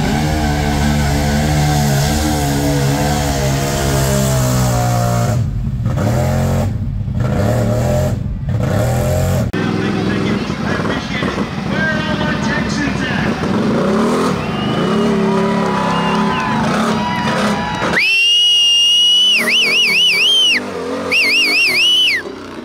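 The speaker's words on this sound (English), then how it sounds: "See the size of that bike? That hit is no joke." A high-horsepower bike roars through a tribute run, a loud continuous engine growl with rising revs and sharp choppy bursts, near and dominant, ending in high whistling whine tones.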